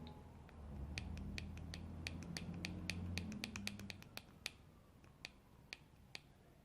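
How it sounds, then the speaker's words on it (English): A helmet mount for a 2021 Specialized Flux 1250 bike headlight rattles in quick, sharp little clicks and ticks, close and fairly quiet, over a low background hum. "It rattles right here."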